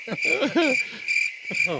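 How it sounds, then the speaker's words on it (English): Crickets chirp as a sound effect, a steady high trill repeating in short bursts, fairly clear and close, with no talking over it. "give me crickets at least"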